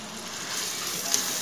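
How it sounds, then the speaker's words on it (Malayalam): Onions frying in oil in a pan give off a steady, even sizzle that stays close and constant with no change in level. "ഇനി ഉള്ളി നമുക്ക് മൂപ്പിക്കാം ബ്രൗൺ കളറാവണ വരെ മൂക്കണം"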